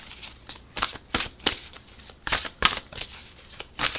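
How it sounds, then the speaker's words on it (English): Animal Love Oracle cards are shuffled by hand in a quick series of crisp riffling bursts, about a dozen close, sharp flutters in an uneven rhythm. "So we are going to shuffle."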